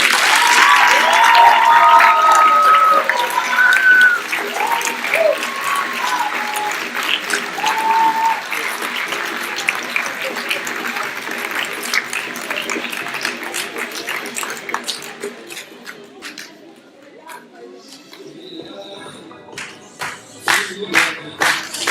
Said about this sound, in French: Je pense qu'on peut les applaudir plus bien fort.